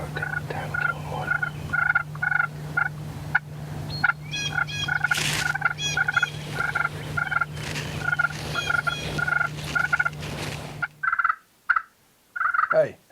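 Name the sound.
hunter's turkey call imitating a turkey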